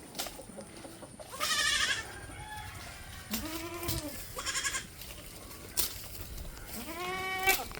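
Goats and their young kids bleat in short, wavering cries, several separate calls spaced across the clip, fairly close, over a quiet farmyard background with no talking.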